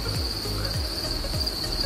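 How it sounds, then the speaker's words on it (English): Crickets chirp inside a breeding tub in a shipping-container cricket farm, a dense, constant high trill from many insects, close and steady. "Cricket's just going absolute berserk all up the back there"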